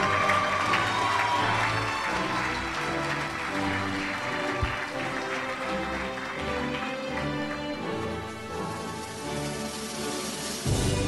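A graduation audience at Grace Christian Academy claps and cheers in a loud, sustained wave that fills the hall evenly from start to finish, with no voice rising above it.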